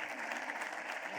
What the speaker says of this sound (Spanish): Un aplauso para el señor Gómez, por favor.